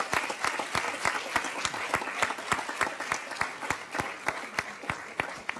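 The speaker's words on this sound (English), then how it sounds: "Now we can give the round of applause." Sustained applause from an audience at a school district governing board meeting, dense rapid clapping with some sharper individual claps standing out, steady and fairly loud throughout.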